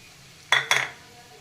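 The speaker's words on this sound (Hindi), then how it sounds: "अब बेसन इसमें डाल के चलाते हुए भून लेते हैं मीडियम धीमी आंच में" Spoon clinks twice against a pan while gram flour roasts in ghee over medium-low heat, two short metallic knocks close together, then quiet.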